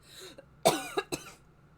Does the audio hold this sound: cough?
yes